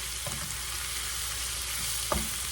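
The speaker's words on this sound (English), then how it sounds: "So let's go ahead and toss this chopped shrimp in there. stir that around." Chopped shrimp frying in a hot pan with olive oil, onions and peppers: a steady, quiet sizzle with a couple of brief stirring scrapes.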